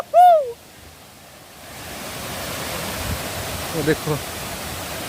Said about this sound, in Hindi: पहुंच गए फाइनली हम वाटरफॉल को।